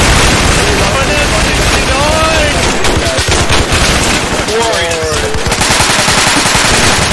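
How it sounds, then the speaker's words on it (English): Sustained machine gun fire in the video game Insurgency, loud and close, rapid bursts running almost without pause and layered with other gunfire, while voices shout over the battle. "this MG mess is fucking amazing"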